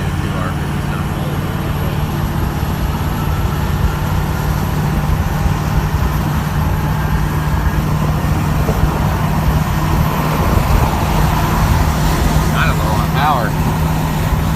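A car accelerates on the road under light throttle, a steady engine and road roar holding loud and continuous for the whole stretch.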